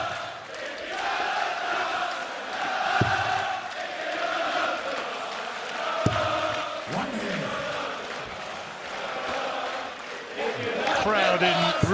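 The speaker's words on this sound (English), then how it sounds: "Crowd in really celebratory mood tonight." A darts crowd at a semi-final of the 2017 Unibet Darts Masters roars, cheers and celebrates steadily throughout, a dense wash of voices with a few sharp shouts and bangs along the way.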